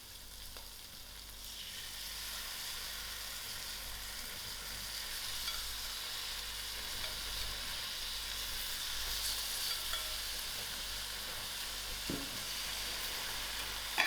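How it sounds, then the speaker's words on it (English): Tinned fish dry-cooking in a pan with tiny beans, producing a continuous even sizzle of frying with soft stirring scrapes and a light clatter near the end, with no one speaking. "Now I'll gradually place in my"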